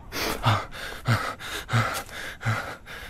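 Five rapid, forceful gasping breaths in a steady rhythm, each a sharp intake followed by breathy air, close and fairly loud with no talking.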